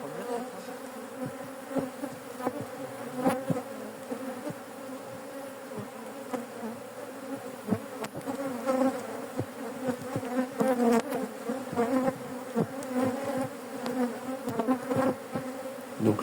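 Honey bees buzz around an open beehive in a garden apiary, a dense continuous hum close by with individual bees droning past, from an aggressive colony that is preparing to swarm.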